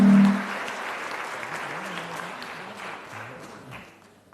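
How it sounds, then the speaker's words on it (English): Applause from the audience at a health sciences graduation awards ceremony for students taking the stage, steady clapping that tapers off and stops, with murmured voices beneath. "let's give them a round of applause"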